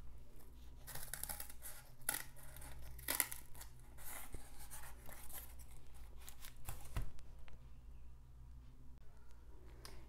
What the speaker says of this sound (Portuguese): Vou recortar com uma tesoura.